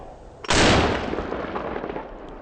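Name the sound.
turkey shotgun firing 3.5 inch Longbeard XR number 6 shell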